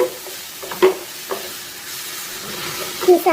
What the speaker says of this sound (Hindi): इसे 1 से 2 मिनट तक भूनेंगे मसाले